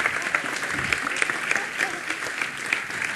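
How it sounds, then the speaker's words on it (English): A lecture-hall audience claps for a singer and students after a song, a brisk, moderately distant round of applause filling the whole short stretch at an even level. "big round of applause for Karen Kovar and all the students"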